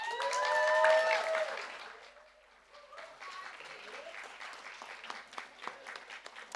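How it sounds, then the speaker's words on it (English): Audience at a live poetry event applauding, a dense burst of clapping that swells then fades to scattered claps and murmurs, with some cheering at the start. "Round of applause, please."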